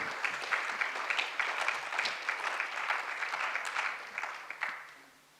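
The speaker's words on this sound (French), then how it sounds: "Vous pouvez l'applaudir." An audience claps steadily for several seconds, a dense patter of hands that fades out at the end.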